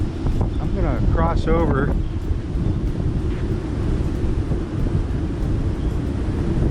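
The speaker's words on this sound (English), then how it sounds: "It's very, very windy here." Strong wind roars across the front deck of the Emerald Princess cruise ship, a constant low buffeting rush, with someone speaking briefly near the start.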